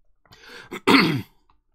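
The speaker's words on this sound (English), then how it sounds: "I need to clear my throat," A single person clears their throat: a soft rasp builds into a louder, sharp guttural hack, short and close, with no talking around it.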